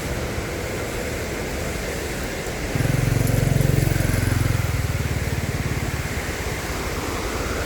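A motorcycle passes close by on a road near Lake Sebu falls, its engine note rising and lingering over a constant loud roar of rushing waterfall.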